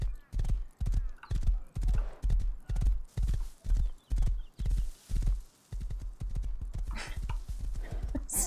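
Horse in the survival video game Rust trots with loud, regular clip-clop hoofbeats close by, steady for about five seconds before a brief pause, then resuming in a quicker, denser run with a whinny-like snort near the end.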